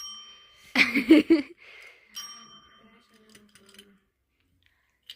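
A small bell rings with bright, lingering metallic tones during a casual gathering on the last day of exams, sounding after a burst of nearby voices and fading gradually.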